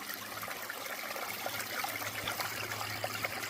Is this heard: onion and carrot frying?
no